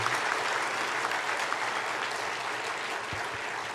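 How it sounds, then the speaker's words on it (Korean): A church congregation at an ordination service claps in a big, hearty round of applause, a continuous wash of many hands that stays fairly steady and slightly softens toward the end. "우리 크게 한번 힘찬 박수로 한번 축하해 드리도록 하겠습니다"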